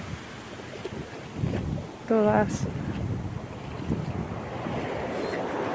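Sea waves washing onto a beach make a steady broadband rush with wind noise throughout, while a person speaks briefly over it.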